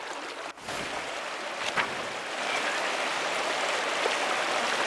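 Steady, continuous rushing of a waterfall in the video game Pentiment, an even broadband wash of falling water heard alone throughout, with no voices.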